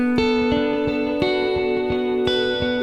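An Empress Zoia pedal running a particle reverb, mixed low, gives off strange pitched blips and repeating struck tones with echoing tails, layered over a sustained droning chord that shifts pitch a few times.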